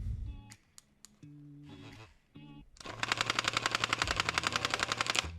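A ProVolver Elite haptic pistol cycling in automatic mode, opening with a few separate clicks and mechanical whirs, then a fast, even rattle of rapid mechanical strikes close up for over two seconds.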